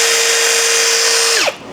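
Cheap power screwdriver with its bit spinning, a loud close whine holding one steady pitch, then dropping sharply as the motor winds down at the end.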